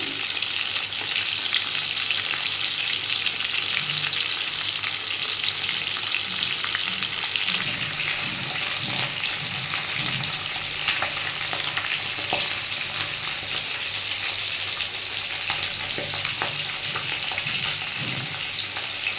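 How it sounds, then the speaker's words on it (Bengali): Katla fish frying in hot oil in a wok, a dense continuous sizzle heard close up, with faint stirring clinks and a brighter hiss rising partway through, no voices. "আমি কড়ায় মাছ বসিয়ে দিয়েছি মাছটা ভেজে নিই"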